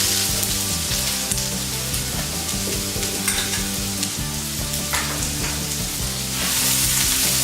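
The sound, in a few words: mustard seeds spluttering in hot oil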